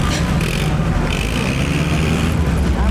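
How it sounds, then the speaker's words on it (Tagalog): A loud, steady engine drone rumbles continuously, like a jeepney engine, from a ride vehicle at Tokyo Disneyland idling or driving with its motor running close by. "Maingay yung makina, no? Parang makina ng jeep."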